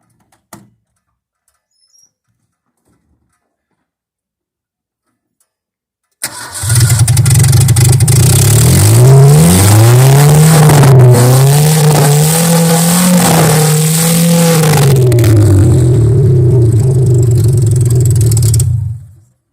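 A classic Ford Fairlane with a 140-cubic-inch engine cranks briefly after a quiet pause, then catches and runs loud and close. It revs up and down several times before settling into a steady idle.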